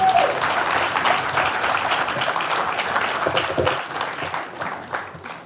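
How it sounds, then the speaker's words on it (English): An audience at an Edutel graduation ceremony in Edupark applauds with steady, dense clapping that slowly tapers off toward the end. "please let us acknowledge by a round of applause everybody that has assisted you to be here today"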